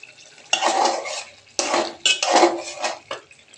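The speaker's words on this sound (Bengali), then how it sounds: "এখানে সুন্দর করে নাড়াচাড়া করে দিবে।" A potato and puti fish curry with cauliflower is stirred in a metal pot, giving loud, close bursts of scraping and clanking utensil strokes separated by short pauses, with a light sizzle beneath.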